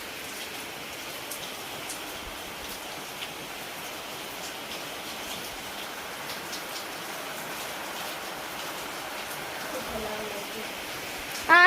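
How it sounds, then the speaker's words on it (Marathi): Heavy rain pours steadily, a dense, continuous hiss of drops striking surfaces that holds constant throughout. "लय मोठा पाऊस आला"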